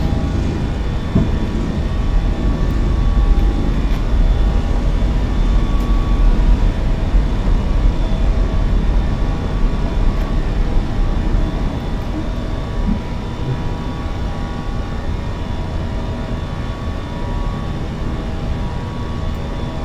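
An American Airlines Airbus A320 roars through its takeoff run and climb out of Dallas, a steady, loud broadband engine rumble that holds without letup and eases only slightly toward the end.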